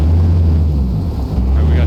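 An off-road vehicle engine in the video game Offroad Mechanic drones loud and steady at high revs, a dense low rumble with a windy hiss throughout and no clear pauses.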